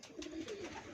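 Pigeons give a soft, low cooing call, a short rolling coo repeated within a second, faint and fairly close with no talk.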